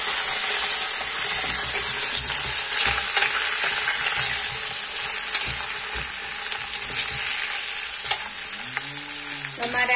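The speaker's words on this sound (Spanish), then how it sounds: "Esto lo vamos a freír un poquito." Food fries in a pan while cooking a Córdoba-style baked ham hock, with a loud steady sizzle and hiss and scattered stirring clicks and scrapes, close up, with a brief tonal sound near the end.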